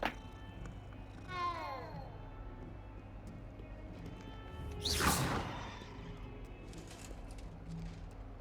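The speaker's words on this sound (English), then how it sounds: "Cat." A cat meows in the video game Hogwarts Legacy, a short rising-falling call standing out over quiet ambient game background, followed later by a louder whooshing effect.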